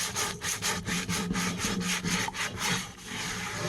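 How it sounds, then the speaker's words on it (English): Rhythmic, gritty scraping strokes, close and steady, as a cast iron Dutch oven is scrubbed back and forth with kosher salt. "I'm going to give this a scrub with the kosher salt."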